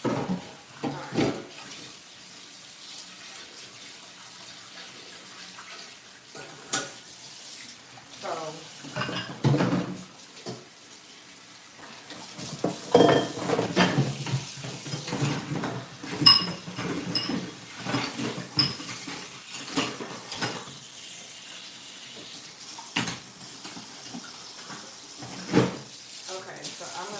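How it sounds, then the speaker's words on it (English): Dishes, pots and cutlery clatter and clink in a kitchen sink under running tap water, with irregular knocks and scrapes close by, busier in the second half, and a person speaking at times. "put this in so I can start washing the dishes"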